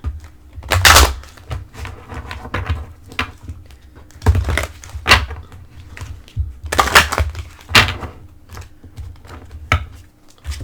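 Oracle cards are shuffled in repeated rapid riffles and bursts of papery flicking, close by, with short pauses between.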